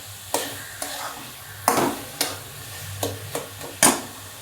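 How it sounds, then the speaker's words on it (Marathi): Mango burfi mixture stirred in a kadhai, a series of separate scraping strokes at an uneven pace with faint sizzling between them, close and moderately loud, with no talk. "सारखं हलवत राहायचं"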